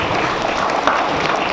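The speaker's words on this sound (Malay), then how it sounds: "Semua tepuk dia." A class applauds a student, steady dense clapping from many hands that holds evenly from start to finish in a room.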